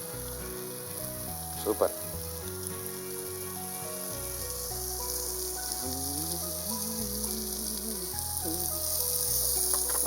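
Curry leaves drop into hot oil already frying with onion, garlic and dried fish, giving a steady crackling sizzle under background music, with a brief spoken word over it.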